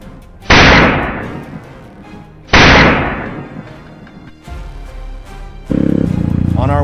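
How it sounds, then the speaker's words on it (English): Two loud, sharp gunshots ring out about two seconds apart during a wild boar hunt, each decaying quickly. Quieter rustling and a brief vocal sound follow. "As it charged out from the brush, I squeezed off a flurry of shots."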